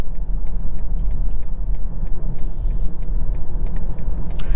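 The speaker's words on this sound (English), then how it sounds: "Now, around the town driving, I can say that the vehicle is pretty smooth." A 2023 BMW X1 xDrive28i with a seven-speed dual-clutch transmission drives around town, heard from inside as a steady low engine and road rumble with faint ticks and clicks on top.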